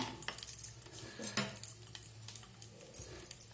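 A spoon stirs turmeric into peanut kosambari, producing close, irregular scraping and light clinking against a bowl, quiet and steady with occasional sharper taps.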